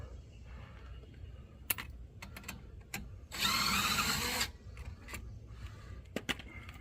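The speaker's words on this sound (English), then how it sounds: "I have a 3/8 impact DeWalt, so that will break it loose for me" A DeWalt 3/8-inch impact wrench loosens a brake caliper bracket bolt on a 2007-2014 GMC Yukon or Chevrolet Tahoe during a front brake job, giving one loud hammering burst of about a second, with scattered clicks before and after.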